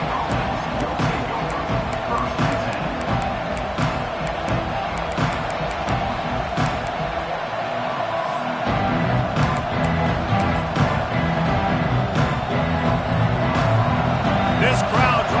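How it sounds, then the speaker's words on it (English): A football stadium crowd roars in a dense, continuous wash of noise, loud and sustained throughout, with scattered shouts and a commentator talking over it. "This crowd trying to make life miserable for this offense"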